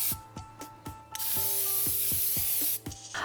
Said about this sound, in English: I sprayed 3 coats for a good frosting.